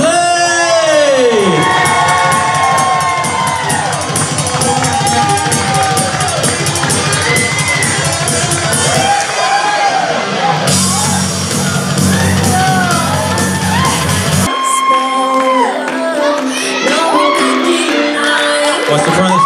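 A large crowd at an outdoor concert at the South Florida Fair cheers, whoops and shouts continuously and loudly, with amplified band music and voices over the PA mixed into the roar.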